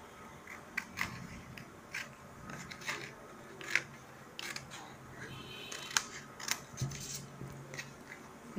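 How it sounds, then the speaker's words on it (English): Paper being cut with scissors to shape a leaf, a series of close, faint crisp snips and blade clicks at an irregular, unhurried pace in a quiet room. "I'm going to cut it out with my scissors."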